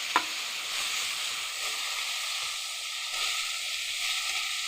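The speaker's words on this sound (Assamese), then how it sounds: "অকণমান ভাজি ল'ম।" Tomatoes with cumin and coriander fry in a pan, giving a steady close sizzle and hiss with a faint clink of stirring near the start and no talk.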